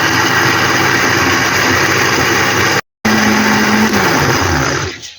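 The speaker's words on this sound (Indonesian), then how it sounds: "Jadi ini kita blender aja." An electric blender grinding balado chili spice paste with water, a loud steady motor whir that cuts out briefly, restarts with a rising pitch, then winds down at the end.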